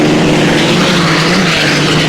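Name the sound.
racing hydroplane boats roaring past at the start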